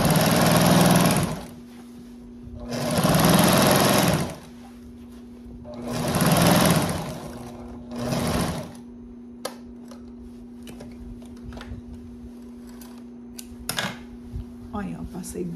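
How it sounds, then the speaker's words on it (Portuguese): A sewing machine runs gathering stitches along fabric for a water jug cover, buzzing loudly in four separate bursts of one to two seconds each, followed by softer handling clicks over a steady background hum. "Passei duas costuras de franzido."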